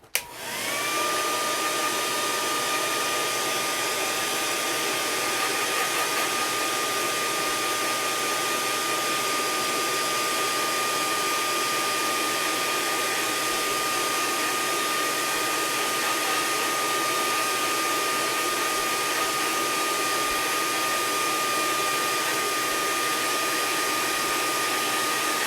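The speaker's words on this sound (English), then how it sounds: "I do keep a hairdryer down here on my workbench for just this very reason" Hairdryer blowing steadily on a workbench, a continuous whirring motor hum with high airflow hiss that starts abruptly and holds unchanged throughout, no talking.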